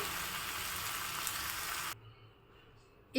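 Chopped ginger frying in hot oil in a village-style kitchen, a steady close crackling sizzle that cuts off abruptly partway through, leaving quiet with a brief thump at the end.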